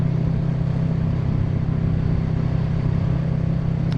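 A motorcycle engine running steadily at a constant rumble while riding, close and continuous, with no distinct gear-change breaks standing out.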